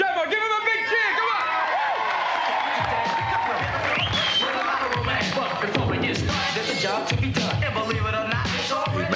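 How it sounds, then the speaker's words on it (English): A crowd cheers and shouts during an Andy Ruffell BMX stunt demo on a Mongoose bike, with an announcer's voice over the top and busy, sustained noise from start to finish. "give him a big cheer, come on!"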